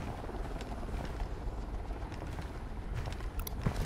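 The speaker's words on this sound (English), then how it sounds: "Chopper incoming." A helicopter approaches in Ghost Recon Wildlands, a dense, rumbling rotor wash with wind-like noise filling the scene steadily, with faint mechanical clicks scattered through it.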